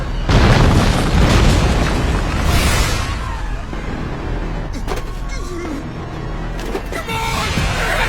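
Heavy cannon fire booms on a battlefield amid shouting, deep rumbling blasts and chaotic noise rolling continuously, with sharper impacts punctuating the din.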